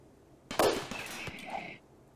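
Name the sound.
gunfire and grenades in a video game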